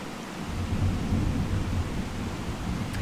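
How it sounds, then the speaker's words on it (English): Thunder from a summer thunderstorm rolls as a long, deep rumble swelling and fading over rain noise, with no voices. "And do you hear the thunder?"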